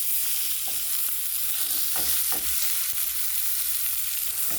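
Steak sears in a hot pan with a steady, loud sizzle and frying hiss, broken by a few brief scrapes and stirring knocks, with no voices over it.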